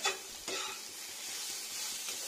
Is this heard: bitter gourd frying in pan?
yes